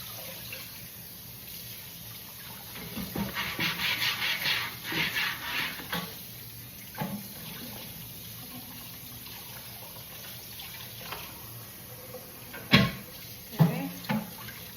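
A wooden board is rinsed under a running kitchen tap in a sink, water splashing in uneven bursts with quieter gaps and a couple of sharp knocks, fairly close.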